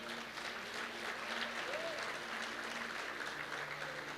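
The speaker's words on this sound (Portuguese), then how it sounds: "Dê um aplauso ao Senhor." A church congregation applauds during a sermon, a steady, faint wash of clapping from many hands that holds evenly throughout, heard from a distance.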